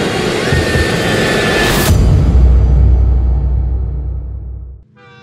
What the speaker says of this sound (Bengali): প্ল্যাটফর্ম নম্বর 1-এই দাঁড়ালো ট্রেনটা